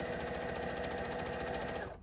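Brother SE-2000 computerized sewing machine stitching after a bobbin winder repair, a fast steady mechanical whirr with even rapid needle clatter, close and continuous before it stops near the end.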